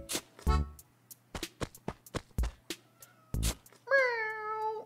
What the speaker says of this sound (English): Does Kitty need food?